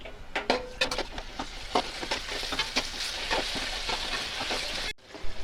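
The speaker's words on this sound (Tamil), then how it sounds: "கறியை நல்லா வதக்குங்க" Chicken pieces sautéing in a pan, a steady close sizzle with repeated scraping clinks of a stirring spoon, briefly cut off near the end before resuming.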